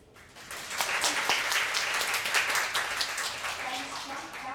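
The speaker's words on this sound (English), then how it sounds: "Let's applaud and thank him again" An audience claps steadily for several seconds after a lecture, a dense, sustained patter of applause that swells and then slowly fades.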